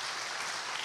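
Church congregation applauding in encouragement at a special dawn prayer meeting, a brief, even burst of many hands clapping, moderately faint and uninterrupted.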